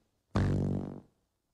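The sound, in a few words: fart sound effects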